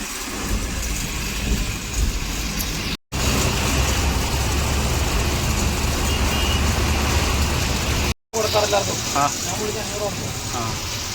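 A loaded lorry carrying goods from Bombay to Kozhikode pulls away slowly, its broad engine rumble and road noise steady and loud throughout, with someone speaking briefly near the end.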